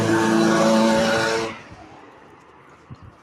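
A car engine roars loudly and close for about a second and a half, then cuts off abruptly, leaving a quiet room with a few faint knocks.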